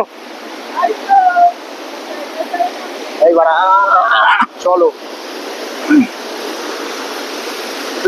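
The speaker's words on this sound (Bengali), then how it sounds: "ঝর্ণা ঝড় ঝরিয়ে আজ ঝেঁকে ঝেঁকে যায়" A waterfall at Sittong pours in a steady, broad rushing roar for the whole stretch, while excited voices speak and call out over it.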